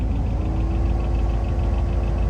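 A heater blower fan inside a parked 1956 Dodge Custom Royal Lancer at a classic car show, running as a steady, low, droning hum with a faint fluttering rattle and a constant tone.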